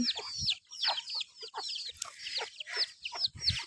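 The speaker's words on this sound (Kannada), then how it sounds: "ಇದು ಹುಂಜ ಓಡಿಸ್ಕೊಂಡು ಹೋಗ್ತಾ ಇದೆ ಕೋಳಿ ಮರಿನ" A rooster chasing chicks: chickens cluck and squawk in quick, agitated bursts close by, with chick chirps overlapping as the birds scurry about.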